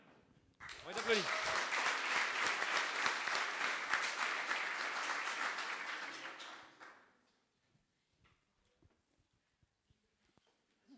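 Audience at a coding bootcamp demo day in Paris bursts into loud, dense applause lasting about six seconds, then dies away to scattered claps and room noise.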